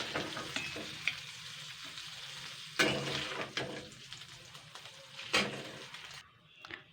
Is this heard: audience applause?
no